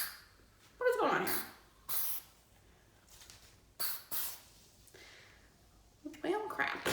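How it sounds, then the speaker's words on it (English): Several short, sharp hissing bursts of an aerosol heat protectant hair spray come in quick succession, close by, with a voice speaking between them. "it's an aerosol spray"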